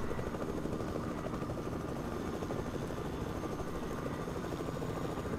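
A helicopter in Fortnite climbs steadily, its dense rotor thrum and engine roar holding loud and constant throughout with no voices over it.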